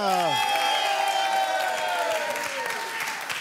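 A television studio audience applauds on a French dating game show, a broad burst of clapping that opens with a brief rising and falling vocal or musical sweep, then settles into a steady wash under faint voices.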